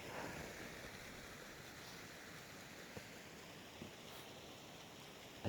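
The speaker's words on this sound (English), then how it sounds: "I can't stop enjoying this freaking creek." A creek flows steadily outdoors, a continuous broadband wash of running water with no pauses, soft and even throughout, with a faint knock near the end.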